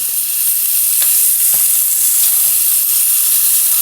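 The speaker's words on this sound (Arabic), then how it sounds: "بننزل بقى قد كده بقطع الفراخ بتاعتنا ونقلب تقليبه" Chicken pieces frying in oil in a pan on a portable gas stove, a loud continuous sizzle close by with a few light scrapes of stirring, no voices.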